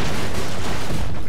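Dense, loud burst of gunfire and explosive blasts in the Broforce video game, a continuous rattling barrage without pauses, up close and filling the whole moment.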